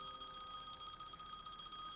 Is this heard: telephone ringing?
yes